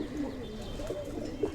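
Pigeons kept on a rooftop coo softly in low throaty murmurs, a few overlapping calls close by over faint background noise.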